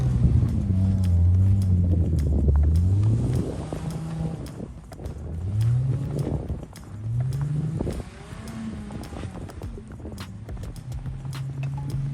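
All-wheel-drive Nissan VQ-engined car at full throttle while sliding in snow, engine tone sweeping up and down repeatedly over wind noise, loud at first then wavering and somewhat distant.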